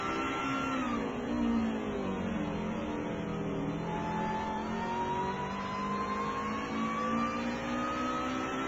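Formula V1 race cars in a sim racing game climb uphill toward the corkscrew, engines whining in a continuous, steadily rising tone with layered harmonics from several cars at once, no voices.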